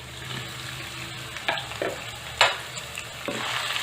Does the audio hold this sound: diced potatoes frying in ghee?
yes